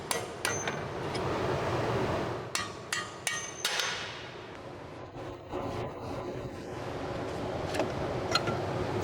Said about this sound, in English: Use a hammer and a punch tool to knock out the bolt and separate the strut from the steering knuckle.